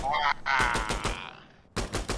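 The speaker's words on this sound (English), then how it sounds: "Gunshot." Rapid automatic gunfire from the first-person shooter Insurgency Sandstorm, several bursts of sharp shots cracking close and loud, with a brief lull near the end before the firing resumes.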